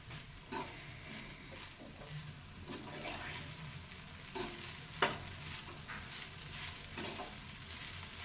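Veg fried rice stirred and fried in a pan gives a steady close sizzle, with spatula scrapes and stirring knocks recurring every second or so and one sharper clatter partway through.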